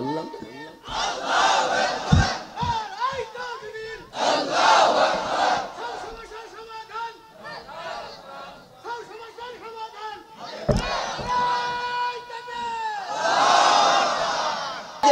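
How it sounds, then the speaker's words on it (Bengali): A large crowd at a religious gathering shouts the takbir, Allahu Akbar, in loud repeated rhythmic bursts answering a leader's call, with chatter and whoops between the chants. "একটা তাকবীর দিয়ে দেন দেখি তো।"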